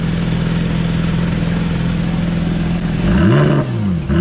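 A Porsche GT3 at Sentul International Circuit idles with a steady drone, then its engine is blipped in a short, loud rev that rises and falls near the end.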